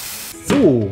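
Beef fillet hits a hot pan with rosemary and thyme and starts to sear. A sudden loud sizzling hiss follows a quieter start, and a voice speaks over the frying.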